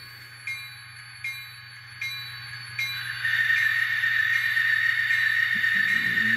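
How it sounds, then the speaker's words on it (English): A few light bell strikes give way to a steady, loud hiss of escaping air from a model locomotive's sound-decoder sanding valve effect, continuing over a low mechanical hum. "Definitely a potent sanding valve."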